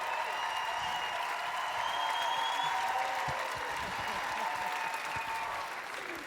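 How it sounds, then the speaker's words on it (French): Studio audience of a Quebec game show applauding and cheering as a challenge ends, a dense, steady roar of clapping with whoops and shouts mixed in, fading slightly toward the close. "On l'applaudit."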